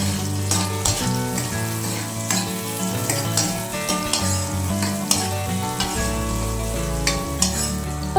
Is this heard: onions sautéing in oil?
yes